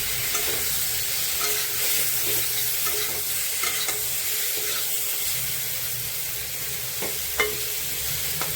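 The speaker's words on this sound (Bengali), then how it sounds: "উচ্ছে আলুটা সুন্দর করে লাল লাল করে ভেজে নেব" Bitter gourd and potato pieces frying in oil in a pan while being stirred, a steady loud sizzle with occasional scraping clicks from the spatula, no talking.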